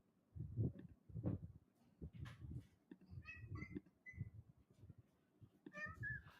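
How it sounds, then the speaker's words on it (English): A Malaysian cat from Penang meows in several short, high, faint calls, mixed with low thumps and murmuring handling noises nearby. "here's the world famous Earl Grey, a Malaysian cat from Penang"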